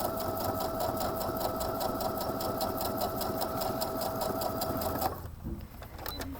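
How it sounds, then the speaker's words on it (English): Domestic sewing machine running steadily as it stitches a row along a fabric seam with the needle set to the far right position, a fast even whir that stops abruptly near the end, leaving a quiet room. "I'm going to stitch down the first row with my needle all the way to the right."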